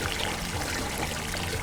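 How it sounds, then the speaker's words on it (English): Tap water rushes and splashes through an ITG foam air filter being rinsed clean, a loud, steady, unbroken stream of pouring water with no voices. "there we can see all the water now is running out perfectly clean"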